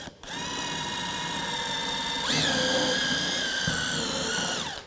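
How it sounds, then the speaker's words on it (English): A power drill with an eighth-inch bit whines at a high, steady pitch, then its tone drops and roughens as the bit bites into a wood floor, running continuously until it stops. "if we just drill down here quickly with this eighth inch drill bit"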